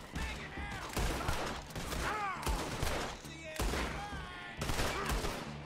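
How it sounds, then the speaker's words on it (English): Pistol gunshots in the Red Dead Redemption 2 video game ring out as several sharp cracks amid busy in-game noise and background voices. "So I shot that guy like 3 times."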